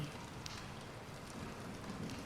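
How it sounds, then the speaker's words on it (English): Rain falling in the video game Bendy and the Dark Revival, a dense, even patter of drops on surfaces that holds steady and fairly quiet throughout, with no voices. "I hate the rain too because it just sounds like other things are happening"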